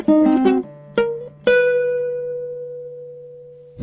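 Jazz guitar playing a rhythmic phrase from a jazz minor etude: a quick flurry of plucked notes, a few separated attacks, then a long ringing note decaying under a held low tone, close with no talk.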